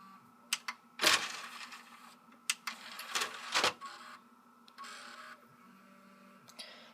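Repaired Xbox 360 disc drive running, a faint whirring hum broken by scattered clicks, ticks and brief mechanical rattles, close and quiet.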